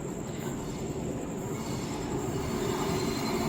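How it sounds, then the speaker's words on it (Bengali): A train passes by at Falakata railway station in India, a steady, fairly loud rolling rumble of wheels on track with a faint high squeal, continuous throughout with no talking. "আর ওই সাইডে রেলগাড়ি যাচ্ছে মনে হয়"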